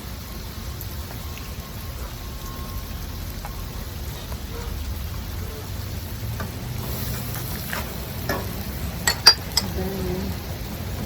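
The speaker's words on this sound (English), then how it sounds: "once this onion get little fried, you don't want to fry too much. And the next thing is the ginger garlic paste." Onion fries in a pan with ginger garlic paste for chicken tikka masala, giving a steady, even sizzle like light rain. Near the end a few sharp clinks of a stirring utensil ring out against the pan.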